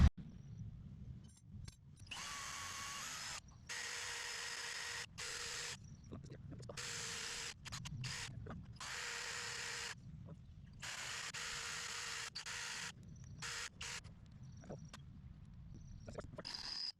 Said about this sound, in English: I'm going to drill these holes right here and here between the two slots